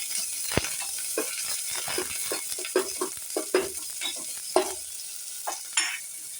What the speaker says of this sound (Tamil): பூண்டு, ஆனியன் ஒரு நிமிஷம் நம்ம வதக்கிக்குவோம்